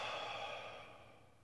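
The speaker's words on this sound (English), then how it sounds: "Final exhale." A long, soft breath out through the nose closes a breathing exercise, steady and close at first and then slowly fading.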